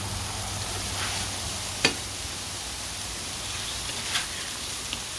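Chicken and sausage fry in a pan for a spicy pasta dish, giving a soft, steady sizzle with a few faint clicks and pops.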